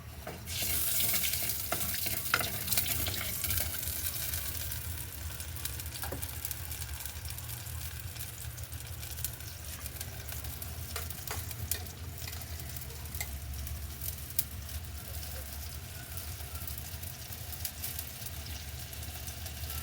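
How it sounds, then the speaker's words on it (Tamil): Mustard seeds popping in hot oil: a continuous sizzle with scattered small pops and crackles, a steady close frying sound with no talking. "கடுகு கொஞ்சம் வெடித்து வர மட்டும் வெயிட் பண்ணுவோம்."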